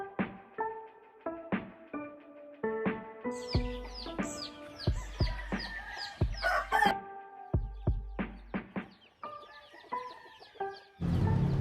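Free-range Hubbard hens laying brown eggs, clucking and calling close by in a steady run of short, repeated vocalizations, with a few chirps mixed in and no talking.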